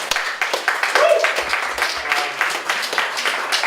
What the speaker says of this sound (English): have a big round of applause for Kirsten, Paul,